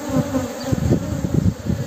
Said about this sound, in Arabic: شوفوا النحل